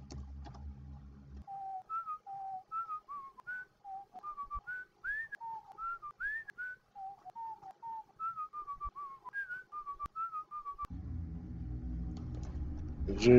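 A person whistles a short melodic tune of rising and falling notes, alone and fairly clear, in the strategy game Warsim: The Realm of Aslona, with a low rumble before and after.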